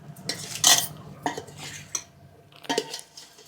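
Small-cut mango pieces for Andhra avakaya pickle tossed with spices in a metal vessel: close clattering and scraping of a spoon against the pot in uneven bursts, with a quiet gap before a final clatter.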